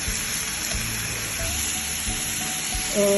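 Beef burger patties sizzle in a dry Tefal grill pan with no oil or butter, a steady close broadband crackle running throughout with faint low hum underneath and a brief tonal clink near the end.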